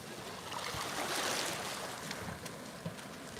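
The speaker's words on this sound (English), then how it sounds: "Let's listen to the water." Gentle, continuous wash of Black Sea water against the beach at Batumi with a soft breezy hiss, steady and fairly quiet, no voices.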